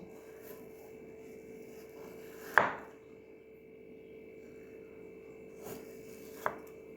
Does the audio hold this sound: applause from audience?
no